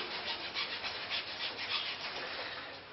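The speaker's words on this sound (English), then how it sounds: "I'm going to chop up this eucalyptus tree" A hacksaw blade cuts into eucalyptus tree wood with quick, rhythmic rasping strokes, close and moderately loud, about ten strokes in under three seconds.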